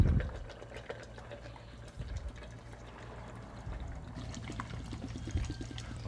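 Lemon juice being poured for fresh lemonade, a soft steady liquid stream that runs for several seconds at low level with a faint kitchen hum beneath it.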